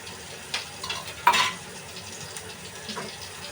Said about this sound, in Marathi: कांदा टमाटा चांगला तेलामध्ये होतोय